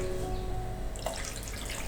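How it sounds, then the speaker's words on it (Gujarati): Two cups of water are poured into a pan to cook masala Maggi noodles: a brief, close splashing gush that starts midway through a low steady hum, with no talk. "તો હવે આપણે તેમાં 2 કપ પાણી એડ કરી દઈશું."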